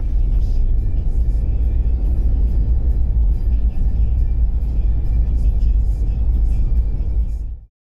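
A car driving along a road in Ireland's Ring of Kerry, heard from inside as a steady, loud low rumble of engine and tyres that carries on evenly, then cuts off abruptly at the end.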